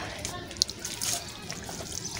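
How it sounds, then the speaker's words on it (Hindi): Water from a hose pipe runs and splashes quietly in a brief stretch, with a faint voice in the background. "आ गया पानी आ गया भाई साहब"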